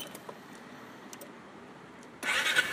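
A 2014 Piaggio MP3 500 LT scooter engine starts up, a sudden loud burst arriving after more than two seconds of quiet room tone and continuing through the short final stretch.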